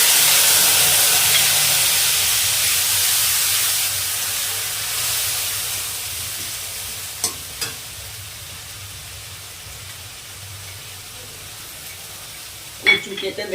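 Cumin seeds, dried red chilies and two bay leaves sizzle in hot oil, a loud, steady hiss at first that gradually softens, with a couple of sharp clinks and a clatter of utensils near the end.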